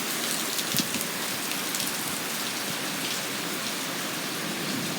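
Heavy rain pouring during a giant neighborhood storm, a dense steady hiss of drops striking surfaces, with scattered louder splashes, continuous and enveloping with no voices.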